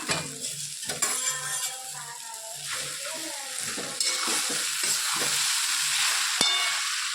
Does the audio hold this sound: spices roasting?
yes